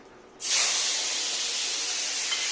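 Tomatoes drop into hot oil with panch phoron, bursting into a loud, steady sizzle that starts abruptly and holds strong and close without any voices.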